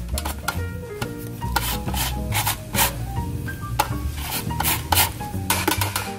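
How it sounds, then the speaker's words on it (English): A lemon is zested in a kitchen, giving close, repeated scraping and rasping strokes in an irregular rhythm, with light clinks of utensils and no talking. "I'm gonna hit it with just a little squeeze of lemon juice, and then also some lemon zest."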